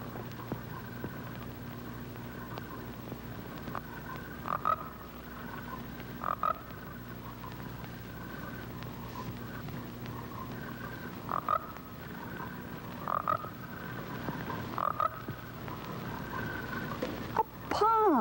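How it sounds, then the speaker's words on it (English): A frog croaks repeatedly at a pond in short, spaced bursts over a steady low background hum, moderately close and fairly faint throughout. "And that sounds like a frog."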